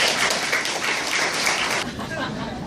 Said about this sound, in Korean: 오늘 이 두 사람의 승혼을 축하하는 의미에서 큰 박수 부탁드리겠습니다